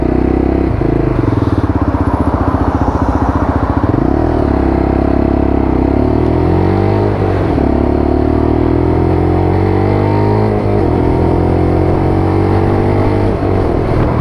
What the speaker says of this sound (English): Little bit of exhaust noise on the LXR.